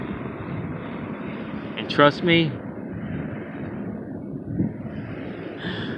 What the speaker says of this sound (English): Plane passing by. It'd probably be a helicopter tour touring around the place.